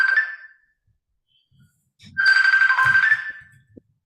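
A phone rings with an incoming call, sounding as a short electronic tone, a pause, then a longer sustained ring burst, fairly close and clear with faint background noises.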